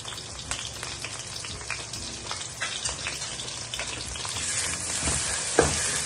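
Homemade ginger garlic paste, for butter chicken, sizzling in a hot frying pan, a close, continuous crackling fry with scattered pops and a stirring scrape near the end.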